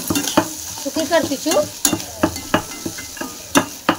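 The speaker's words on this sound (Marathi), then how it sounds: "आता शिमला मिरची चांगली तिने तळून घेतली बघा, एकदम गाळा होतो तिने तळली" Capsicum fries in a pan with cumin and onion, heard as a crackling sizzle punctuated by repeated clanking stirs of a spoon against the pan, close up, with a few brief spoken words.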